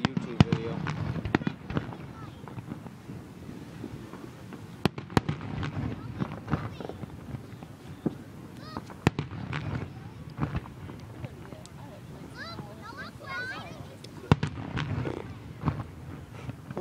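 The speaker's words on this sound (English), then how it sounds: "We came to see the fireworks." Fireworks over Venice burst in scattered sharp cracks and pops, some loud and some distant, spread through a long stretch while people talk over them.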